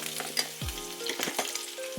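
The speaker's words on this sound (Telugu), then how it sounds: "మిరియాలు బాగా చిట్లాలి," Mustard seeds, cumin and pepper crackle in hot oil for katte pongali, a busy close sizzle with quick popping bursts and a few stirring scrapes, no voices.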